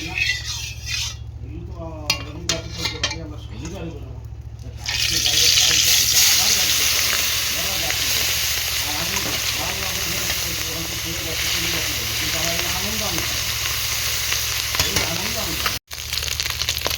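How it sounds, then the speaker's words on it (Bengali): Small fish fry in hot oil in a wok, a steady loud sizzle and hiss that jumps up after a few seconds of quieter clatter and keeps going, with a brief break near the end. "মাছগুলো নিয়ে এখন ভালো করে ভেজে নেব"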